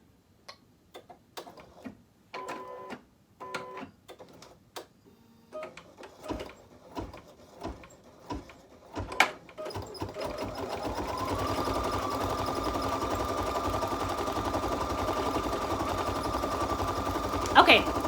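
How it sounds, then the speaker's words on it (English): Embroidery machine stitching out branch outlines in thread colour 0933, first in separate bursts of rapid ticking, then settling into a steady, continuous mechanical whir that runs to the end; close, with no talking over it. "we're just going to go ahead and stitch out those branches"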